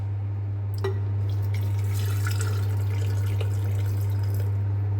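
Roast pork juice trickles and drips steadily into a jug over a constant low hum, with no talking.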